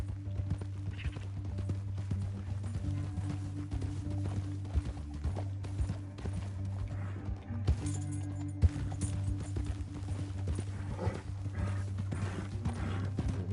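Steady clip-clop of horse hooves trotting along in Red Dead Redemption 2, with a constant low hum underneath, rhythmic and continuous, no talking.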